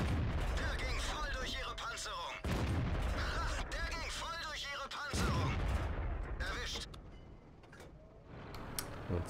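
Gunfire in a video game: repeated sharp shots and bursts with clicking effects, some in quick succession, mixed with game sounds and talk over the action.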